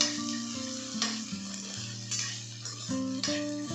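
Green peas and sweet corn fry in a pan with a close, steady sizzle. Tonal hums shift pitch under the sizzle, with soft stirring scrapes and no voices.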